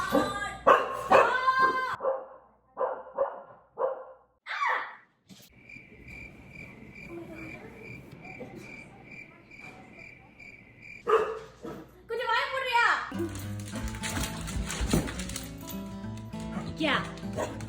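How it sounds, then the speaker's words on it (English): A dog barks in loud bursts near the start and again later, between steady insect chirping, with a person talking toward the end. "if you start barking while I'm making my video"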